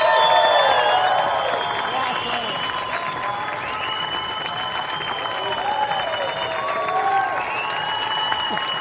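A large crowd at a longboard surf contest applauds and cheers for a California surf champion from San Clemente, a steady dense wash of clapping with whistles and shouts rising over it, moderately loud throughout.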